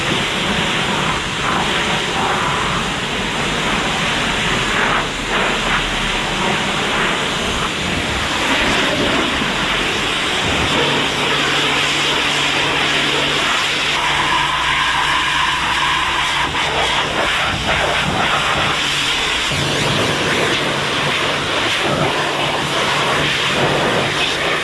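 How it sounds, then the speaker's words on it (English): A pressure washer roars steadily and loudly while cleaning a car on a hot day, a dense, unbroken spray hiss that shifts slightly in tone as the jet moves across the body, with no voices. "Now you'll see the pressure cleaning."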